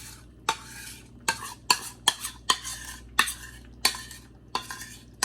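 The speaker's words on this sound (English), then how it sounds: "I go mix am well so that everything go mix together." A spoon scrapes and clanks against a pot while goat meat and peanut butter soup is stirred, giving sharp rhythmic strokes roughly every half second over a soft background hiss, close up and with no talking.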